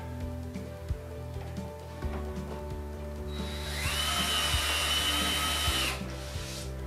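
A power drill drives 1.5 inch screws into wood during a cargo trailer conversion, a rising whine that holds for a few seconds after scattered handling knocks, close and fairly loud.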